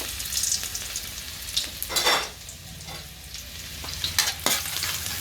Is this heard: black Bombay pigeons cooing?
no